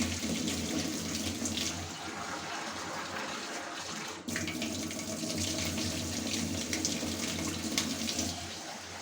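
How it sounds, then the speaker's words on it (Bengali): Continuous running water from a tap with light splashing as chickpeas are rinsed, steady throughout with a brief dip midway, no voices. "ছোলা টোলা সব পরিষ্কার করে পানি দিয়ে ধুয়ে নেব"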